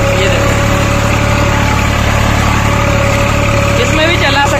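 Swaraj 735 tractor engine pulling a nine-tine cultivator through a hard, deep field in low gear, a loud steady diesel drone with constant low hum running throughout without pause.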